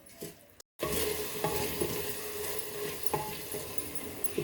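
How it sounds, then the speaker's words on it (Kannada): A spoon stirs green paste through kuska rice masala in a pot, scraping and squelching over a soft sizzle from the hot pan, close and steady after a brief pause. "ಈ ಗ್ರೀನ್ ಪೇಸ್ಟನ್ನು ಹಾಕ್ಕೊಂಡು ನೀಟಾಗಿ ಮಿಕ್ಸ್ ಮಾಡ್ಕೊಳ್ಳಿ."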